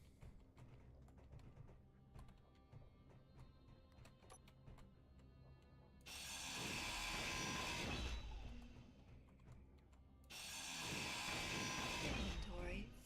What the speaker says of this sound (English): now we just weld all this up.